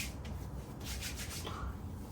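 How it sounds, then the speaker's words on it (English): Soft, faint rubbing of sunscreen lotion being worked into skin by hand, a steady low friction swish with no talking. "I just use like 3, and then I rub it in."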